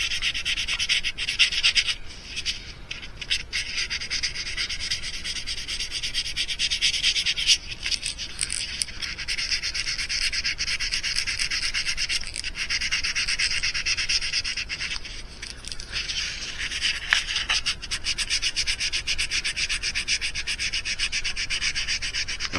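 Steady, close rubbing and sanding as a fishing mouse lure is smoothed all over, a continuous scratchy hiss with brief pauses and changes in pressure.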